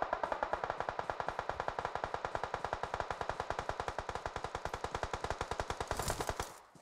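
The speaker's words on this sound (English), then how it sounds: "That's a lot of bullets in that gun." A long, rapid burst of machine gun fire in a video game, dozens of evenly spaced shots rattling continuously for about six seconds before a final louder report and abrupt stop.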